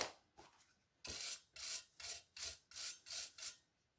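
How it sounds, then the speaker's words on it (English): A glitter crayon is rubbed across a grater in a quick run of about seven raspy scraping strokes, close and fairly loud in a steady back-and-forth rhythm. "I'm going to get rid of this purple and just grate it into here."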